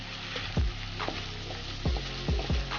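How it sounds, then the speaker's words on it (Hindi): Chicken sizzles and fries in a pan while cooking for white sauce pasta, a steady loud crackle with a few scraping stirs at intervals and no talking. "अब हम इसमें चिकन ऐड कर देंगे। और चिकन को हम उस वक्त तक पकाएंगे जब तक ये पैर ना हो जाए।"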